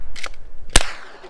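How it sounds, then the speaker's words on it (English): Two gunshots at an outdoor shooting range: a softer crack followed by a louder, sharper bang about half a second later, both close with brief ringing tails. "Austin, you want to shoot this one?"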